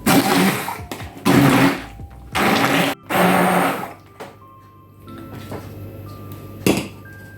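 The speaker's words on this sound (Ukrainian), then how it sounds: "беремо погружний блендер і ось гарненько перебиваємо" Several loud bursts of an immersion blender whirring as it purées currants for jam, separated by pauses, followed by quieter clinks and handling noises of a bowl.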